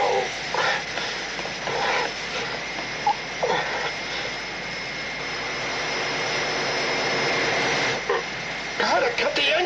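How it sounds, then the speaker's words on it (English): A spaceship engine effect from a 1970s science-fiction TV series, a loud, continuous jet-like roar that holds steady throughout, with brief voices breaking in near the start and end. "Gotta cut the engines."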